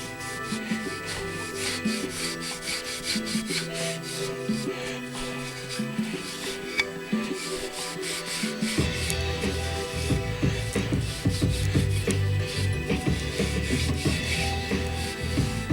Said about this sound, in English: I take an old rag, rub it down all over it